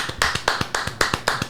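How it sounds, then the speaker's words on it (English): A few hands clapping in quick uneven bursts, close and sharp, like a small studio group applauding a guest on a podcast. "give him a round of applause"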